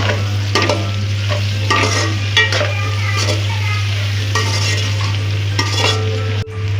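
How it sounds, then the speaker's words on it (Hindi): Onions frying in oil in a pan for a taro and brinjal curry: a steady sizzle with repeated scraping stirs and a constant low hum close by. "इसको हम थोड़ा सा फ्राई करेंगे।"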